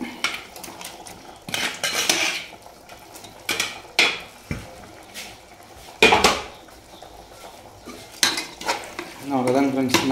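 Mutton pieces for biryani are stirred in a metal cooking pot, and a spoon scrapes and clanks against the sides in irregular bursts over a soft sizzle, close up with no talking.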